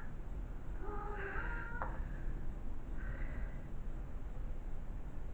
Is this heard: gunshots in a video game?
no